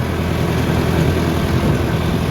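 A Japanese-made tractor with power steering idles nearby, a constant low, even engine rumble with no pauses and no voices.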